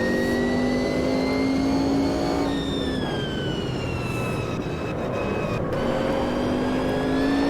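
Sauber C9 Group C race car in a racing video game at Spa, engine roaring loud and steady with rising and falling pitch through gear changes, downshifting into a corner.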